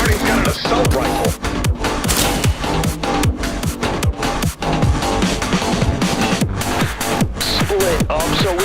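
Rapid assault rifle fire in a video game, dense bursts of sharp shots crackling nonstop at close range with loud mixed action and faint voices underneath.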